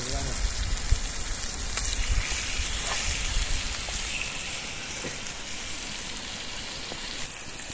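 Chicken pieces frying in oil at an outdoor forest campsite, cooked Mangalore style, giving a steady close hiss and crackle throughout with faint talk underneath.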